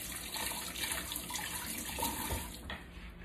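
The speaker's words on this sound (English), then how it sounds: "Rinse my hand off." Tap water runs steadily as a hand is rinsed under a kitchen faucet while a green smoothie is made, a continuous close splashing rush with no talking.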